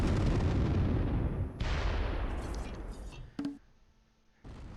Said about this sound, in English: Their mortars have come back to life.